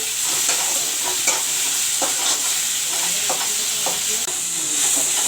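Tomatoes frying in a pan for moong dal, a constant loud hiss of sizzling oil broken by regular scraping and tapping strokes of a spoon stirring, close up and without talk.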